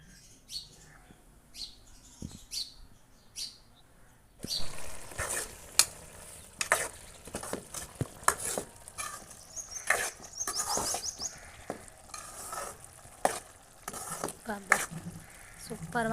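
Dry fish curry simmers and sizzles in a pot while a spoon stirs and scrapes it, with occasional clinks and bird chirps outside and a voice talking at times.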